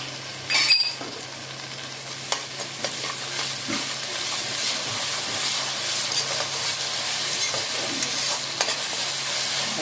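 Ginger garlic paste fries with onions in a pan, with a bright, continuous sizzle and hiss. A sharp clank comes early, then occasional stirring scrapes follow.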